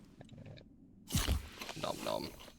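Eating a tin of spam in the video game Atomfall, a loud crunching, chewing burst after a quiet moment, close and brief, followed by softer mouth noises and a voice.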